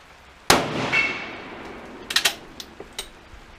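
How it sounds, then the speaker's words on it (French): A K31 rifle firing 166-grain French bullets gives one loud sharp shot with a ringing decay, followed by several quieter metallic clicks and clacks of the action. "Et je tire les 4 autres."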